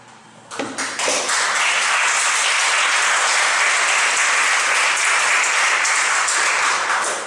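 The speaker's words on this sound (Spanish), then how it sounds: "yo creo que sí es digno de un gran aplauso" Loud, dense applause from an audience at a literary talk bursts in after a brief moment and holds steady, a sustained roar of many hands clapping near and full.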